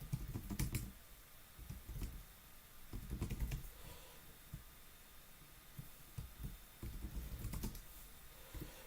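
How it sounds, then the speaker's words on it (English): Computer keyboard typing during a trigonometry livestream: irregular bursts of close, clicky keystrokes, some in quick clusters and some isolated taps, with short pauses between them and no talking. "I'll type it now."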